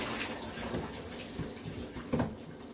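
Water drains steadily from a tub or basin while bug-covered flowering plants are cleaned, a continuous rushing gurgle throughout.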